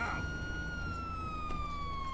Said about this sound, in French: Et on enlève cette putain de sirène.